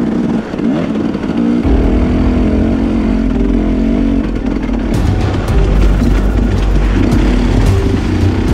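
Enduro motorcycles ride and rev loudly and close, engines droning continuously with rising surges of acceleration and wind buffeting.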